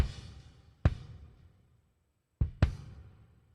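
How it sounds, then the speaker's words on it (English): Original unprocessed kick drum recording, a few dull thumping hits with a quiet gap between them, the second pair close together, under light background noise. "You're about to hear my original kick does not sound that good."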